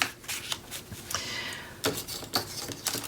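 Sheets of patterned craft paper are flipped quickly by hand, giving a series of soft papery riffles and flicks at an uneven pace, close and quiet.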